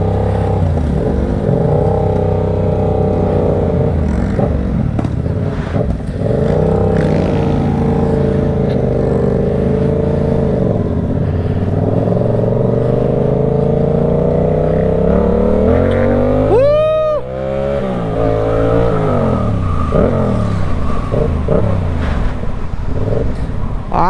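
A Yamaha R7 motorcycle engine revs up close with rising and falling pitch sweeps that build into a loud climbing roar. A sharp whining sweep passes about two-thirds of the way through, and nobody speaks.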